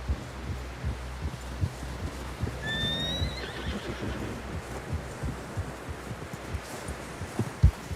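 Horse neighing and clip-clopping hooves in the Red Dead Redemption video game: a sharp whinny rises briefly over a steady rhythm of hoofbeats and soft ambient hum.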